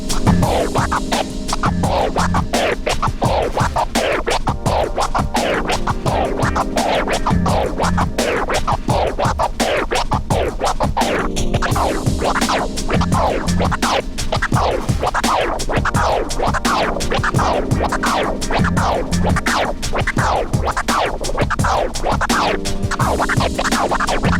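Rapid, continuous DJ twiddle scratching chatters over a steady drum beat, the record cuts flickering quickly and loudly throughout.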